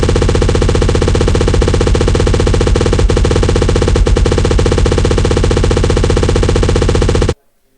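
Fruit Ninja fruit spawn sound effect in a Scratch game, retriggered so fast it becomes a loud, dense rapid-fire rattle lasting about seven seconds before cutting off abruptly.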